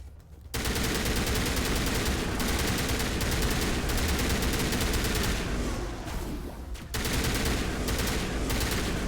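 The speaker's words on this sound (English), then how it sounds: "Gun sounds pretty cool. Would have liked a little more bass in the assault rifle." Assault rifle fire from the video game Mass Effect 1 Legendary Edition: dense, continuous automatic gunfire that rattles on loudly for nearly the whole stretch, with only a brief dip near the end.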